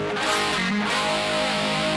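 Distorted electric guitar plays chords from a 1984 lesson, a sustained, steady, fairly loud chord with no talking.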